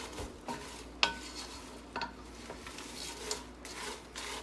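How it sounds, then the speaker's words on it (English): A wooden spoon stirs spinach and rice in a pot, with soft scraping and rubbing strokes plus a few sharper knocks against the pan, close and unhurried. "I have a wooden spoon, and I'm just going to stir it a little bit before I add the next one."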